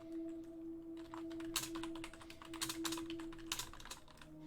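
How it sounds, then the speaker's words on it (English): Fingers type on a computer keyboard in quiet bursts of rapid key clicks separated by short pauses, close and soft over a faint steady hum. "my typing is horrible"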